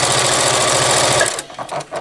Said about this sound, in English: Okay, now at the sewing machine.